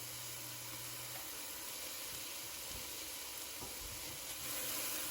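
Garlic sizzles as it fries in a pot, a steady hiss and crackle of hot oil close by, slightly louder at the end, with no talking.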